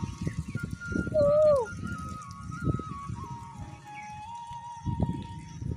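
An Asian koel's rising whistled call rings out clearly over a low background rumble, with another long tonal note trailing through the middle.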